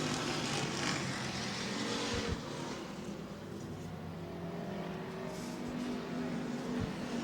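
Stock cars race past on a short oval track, a continuous loud engine roar from the pack with a shifting pitch as cars pass, heard under a faint announcer's voice.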